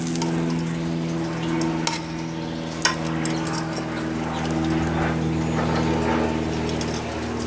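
Small sweet potatoes rubbed with olive oil sizzle on a grill, a steady close hiss and crackle with a low hum beneath and a couple of sharp clicks or taps.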